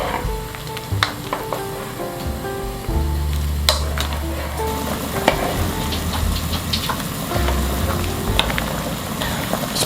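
Beef and radish soup with tuna extract and garlic boils hard in a pot, a continuous bubbling hiss with low rumbling and scattered pops, and some tonal sounds early on.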